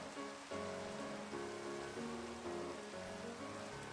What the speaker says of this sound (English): I was hearing the rain.